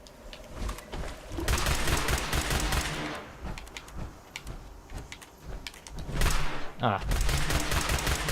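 The two shot laser pistol in the video game Fallout 76 fires in rapid bursts of sharp, crackling shots with brief pauses between volleys, and a player makes a short exclamation.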